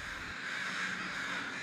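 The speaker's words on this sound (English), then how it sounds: "They found the birds used specific vocalizations and gathered in large flocks over the deceased" Crows caw in a loud, harsh, continuous call that is close and unbroken for the whole short moment, with no other sounds over it.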